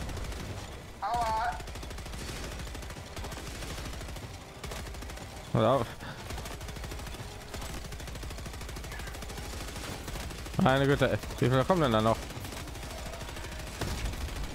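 Robot turret gunfire in Helldivers 2, a steady rapid rattle of shots running under the whole stretch, with someone speaking briefly in a few spots over it.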